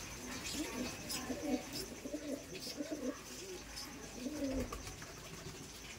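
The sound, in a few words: Madrasi tournament pigeon cooing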